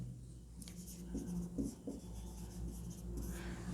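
Chalk or marker writing on a board during a class 10 maths lesson, a run of short scratchy strokes in quick bursts, close and moderately faint over a steady room hum.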